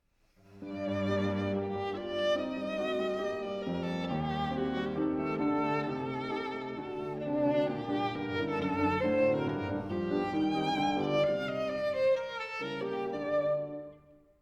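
A piano trio plays a flowing melodic theme for about fourteen seconds, strings singing over piano chords, fading in and out at the edges.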